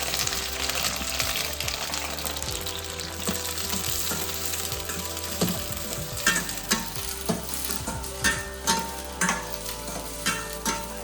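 Green chillies fry in hot oil with a busy close crackle and sizzle, joined later by a series of sharp stirring scrapes and knocks against the pan.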